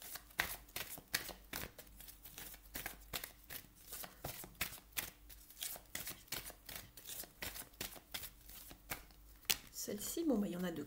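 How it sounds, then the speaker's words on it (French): Tarot cards shuffled in a steady run of quick riffling flicks and soft slaps, close and fairly quiet, with a brief voice near the end. "Je vais tirer 2 autres cartes."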